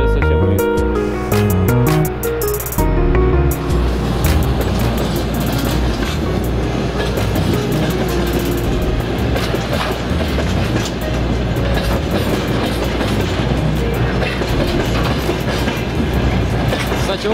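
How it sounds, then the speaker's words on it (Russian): A train rumbles steadily past close by at a level crossing, wheels clattering in a continuous rhythm over the rails, loud and unbroken throughout. "прибытие поезда на станцию, в данном случае на переезд."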